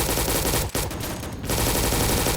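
Continuous loud automatic gunfire in the Roblox shooter Recoil, a dense unbroken rattle lasting a couple of seconds with a brief gap near the start.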